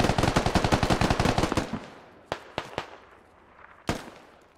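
Automatic gunfire in the military shooter Squad on the Gorodok map, a loud rapid burst of about a dozen close shots, followed by a few scattered single shots and a final sharp report after a pause.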